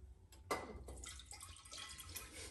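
Water splashes faintly into a pressure cooker holding aubergine pieces, a brief pour with a small splash at the start followed by soft trickling and dripping, quiet and close.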